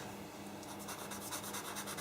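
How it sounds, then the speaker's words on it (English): A pastel pencil lightly shading along an edge on paper for a Mother's Day card, a steady soft scratchy rubbing with faint back-and-forth strokes, close and continuous. "just use the pencil much lighter now, just to put a bit of shading on that edge"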